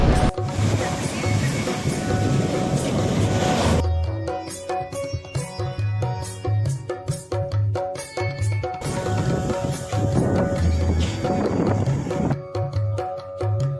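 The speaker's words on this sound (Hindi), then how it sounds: "वहाँ से बहुत तेज लहरें आ रही है" Strong sea waves roar and slosh against the shore near Somnath, a dense continuous wash of surf with surging swells, loud and close, with a voice speaking at times over the water.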